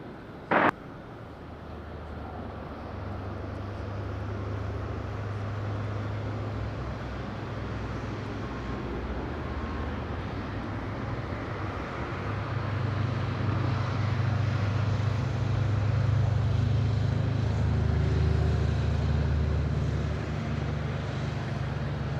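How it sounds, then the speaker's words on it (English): A Smartwings Boeing 737-900 from Prague arrives at Madeira airport: a steady broad jet roar heard from a distance, swelling louder midway and holding before easing slightly. "We have Smart Wings from Prague inbound"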